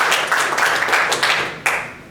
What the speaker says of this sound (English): Can we give them an applause for all their hard work?